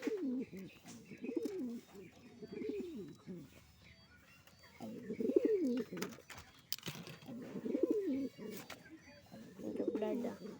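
Breeder pigeons coo in repeated soft, rolling phrases at close range, the bursts coming in clusters with quieter gaps while a person talks intermittently nearby.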